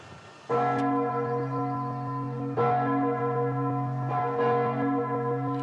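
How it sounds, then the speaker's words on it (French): France's largest church bell, hanging in a Montmartre campanile in Paris, tolls loudly and close, with three deep resonant strikes whose rich humming overtones sustain and overlap between blows. "La plus grosse cloche de France."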